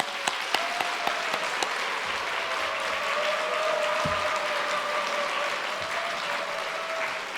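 A church congregation at a Sunday afternoon service and officer retirement ceremony applauds steadily in encouragement for a retired senior pastor, a dense wash of clapping sustained for several seconds, with a faint sustained tone underneath.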